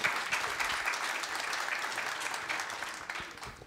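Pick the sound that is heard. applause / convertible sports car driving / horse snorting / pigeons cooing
applause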